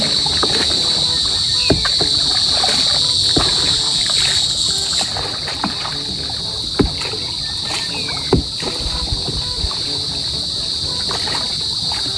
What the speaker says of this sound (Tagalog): May mga kuliglig na rin po